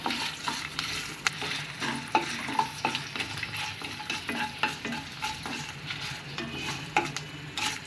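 Garlic cloves sizzle in a hot pan for pudina thuvayal, a mint chutney, as a spoon stirs them with frequent scraping clicks over the constant frying hiss.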